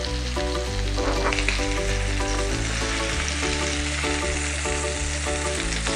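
Filet mignon steaks searing in a hot pan, with a loud, continuous sizzle and crackle heard up close and no talking.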